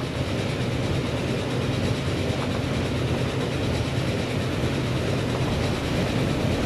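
Trains running in the Transport Fever video game give a steady, continuous rumble of rolling wagons with faint clickety-clack, loud and even throughout with no talk.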